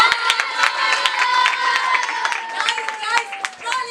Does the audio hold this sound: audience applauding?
yes